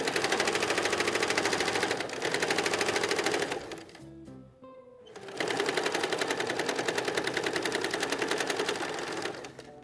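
A sewing machine runs steadily, stitching a seam again in a fast, even rhythm, stops briefly midway with a few light clicks, then resumes at the same loud, close, continuous pace.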